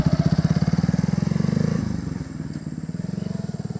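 A motorcycle engine runs up close with a loud, steady put-put pulse that softens and fades after a couple of seconds.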